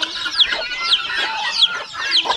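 Farmyard chickens cluck and cackle in a rapid, overlapping flurry, several close calls rising in bursts about every half second, with no speech.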